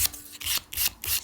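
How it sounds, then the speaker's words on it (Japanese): Sandpaper rubbed back and forth along the edge of a small leather offcut in a leathercraft keychain project, four quick rasping strokes in a steady rhythm, close and clear with no talking. "紙やすりで"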